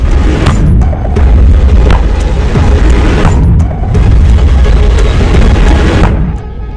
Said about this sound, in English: They would pull the rope, which would then set off the artillery.